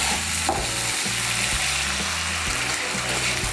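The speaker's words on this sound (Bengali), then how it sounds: "মিশিয়ে নিয়ে এর মধ্যে আমি দিয়ে দেব জল।" Water is poured into a frying mix of soybeans and sugar for Bengali soybean kosha, giving a loud, steady sizzle close by. A rhythmic stirring scrape repeats about every half second, and no one speaks.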